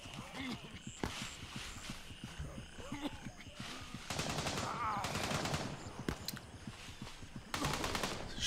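Rapid bursts of automatic gunfire in Gray Zone Warfare, clattering in several close volleys over a busy background, with someone talking between them.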